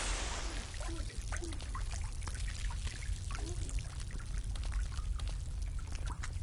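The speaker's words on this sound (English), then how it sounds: "Oh, there's water dripping from the ceiling." Water dripping and trickling from a ceiling in the horror video game Daylight, a steady pouring patter with scattered drips over a low rumbling ambience, close and continuous.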